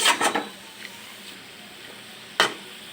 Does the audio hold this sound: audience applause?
no